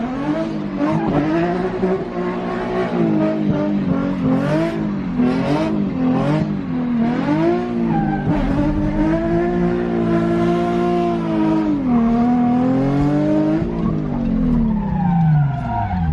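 A car engine revs loudly and continuously, its pitch rising and falling in sweeping waves as the car spins in tight circles.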